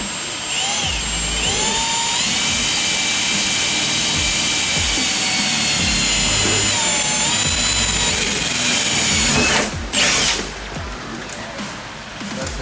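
A steady, loud whine of a power drill drilling holes in car trim on a 5th-generation Toyota 4Runner runs continuously for nearly ten seconds, then cuts off abruptly, leaving a quieter mechanical hum.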